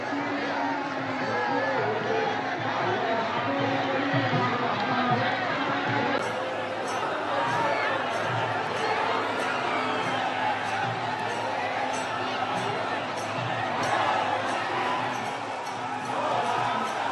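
A large crowd gathered for the Pune Palkhi devotional procession, with a dense, steady hubbub of many voices chattering and murmuring throughout, close and continuous.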